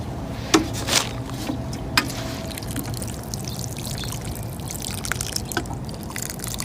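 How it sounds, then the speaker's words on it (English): Water pours steadily onto freshly planted grape cuttings in a garden, a soft continuous trickle and splash with a few brief louder splashes early on. "We're going to water them in."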